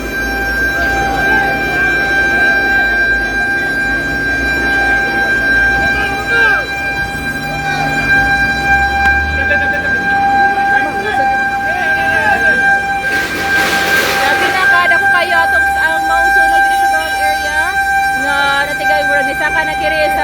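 Fire truck sirens wail continuously at a fire on Burgos Street, with steady tones, horn toots and truck engines close by, while voices talk over the commotion.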